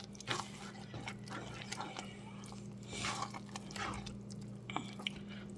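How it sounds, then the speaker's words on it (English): Heavy cream being stirred into a pot of Kraft Dinner mac and cheese, giving soft wet squishing and sticky mixing sounds at a steady, quiet level over a low background hum. "Then a little splasher of heavy cream, just to make it even more creamy. And there we go. Stir it in."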